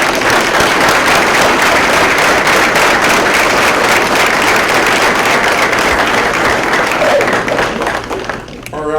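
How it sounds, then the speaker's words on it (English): Sustained audience applause at a county dedication ceremony, dense and loud clapping filling the full stretch before tapering off slightly at the end. "join me in giving them a round of applause"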